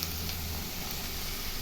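Mushrooms stir-frying in a pan give off a steady, close sizzle that holds at an even level throughout, with no voices over it.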